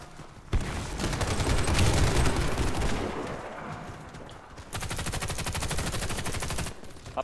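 Sustained bursts of gunfire in a first-person shooter clan war match, dense and loud, with a brief lull midway before another barrage; sniper fire is mixed into the rapid shooting.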